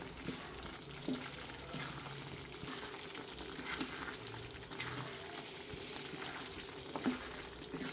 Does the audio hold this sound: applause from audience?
no